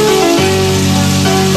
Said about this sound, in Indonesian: Tadi nggak hujan, tiba-tiba jadi hujan sekarang.